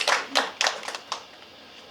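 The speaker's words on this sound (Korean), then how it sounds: "Please give a round of applause to the three artists here." Brief scattered handclaps from a small audience at an artist talk for a Hong Kong art exhibition, a few separate bursts of clapping that quickly thin out and fade.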